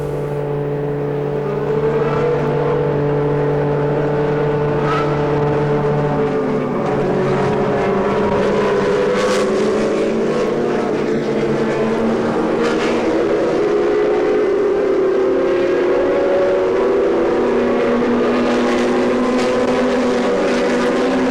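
IndyCar race cars circulate behind the pace car under a yellow flag at the 2002 Grand Prix of Miami, a steady blended engine drone with shifting pitch and a few sharp peaks as cars pass.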